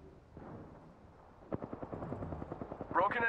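Gunfire in the Apex Legends battle royale shooter, with a faint opening burst, then a rapid, rhythmic string of loud shots building toward the end.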